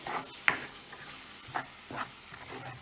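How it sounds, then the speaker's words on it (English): Pasta sauce being stirred into a mixture in a kitchen, with soft scraping and wet stirring strokes at an uneven rhythm over a faint, low background. "And now mix it up."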